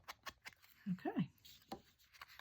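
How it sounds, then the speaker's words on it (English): A few quick snips and rustles of scissors cutting paper for a collage, brief and close, among soft handling noises. "so let's do that with the scissors."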